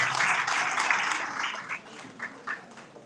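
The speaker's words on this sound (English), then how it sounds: "Please, can we give her a round of applause?" An audience at a book launch gives a poetess a round of applause, a burst of clapping that starts full, thins and fades out, ending in a few scattered claps.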